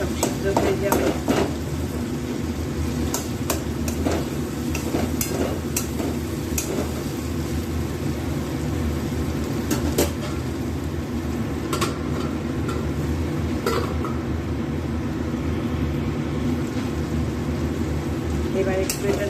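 Tomatoes for mouri paneer being stirred in a pan, a spoon scraping and clacking in irregular knocks over a steady low sizzle, with someone talking throughout.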